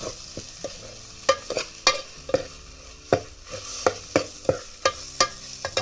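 Masala for a village-style mutton curry fries in oil over a wood-fired stove, with sharp, irregular scraping strokes of a spatula against the pot over a steady sizzle, close and without talk.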